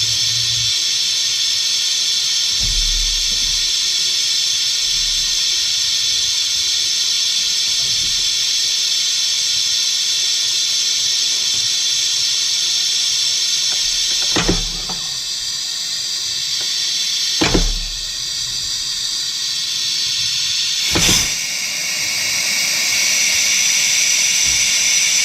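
Compressed air hisses steadily into an engine cylinder through a blown-out spark plug hole during repair work, a loud continuous hiss broken by a few brief clicks and shifts in tone.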